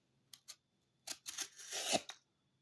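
Folding pocketknife slicing through a piece of cardboard: two short snips, then a longer rasping cut that builds and ends abruptly, close and fairly quiet with no talk.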